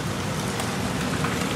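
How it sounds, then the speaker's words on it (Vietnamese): Steady rain pouring outdoors in Vietnam's Mekong Delta region, likely on a durian orchard, a soft, even hiss of drops on surfaces with no voices. "Trời ơi, mưa."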